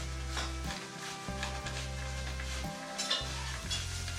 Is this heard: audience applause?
no